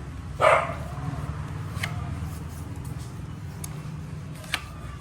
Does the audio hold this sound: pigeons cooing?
no